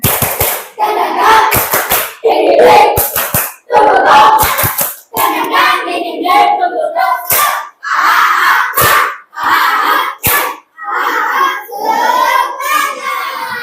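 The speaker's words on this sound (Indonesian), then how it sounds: "Tepuk semangat lagi, tepuk semangat" Children doing a rhythmic spirit clap in a classroom game, sharp hand claps in quick patterned bursts with short pauses, mixed with excited kids' voices and shouts throughout.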